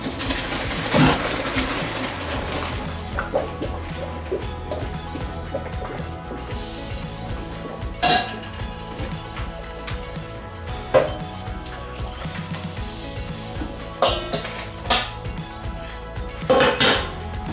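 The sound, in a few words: draining cooked dumplings through a strainer in the sink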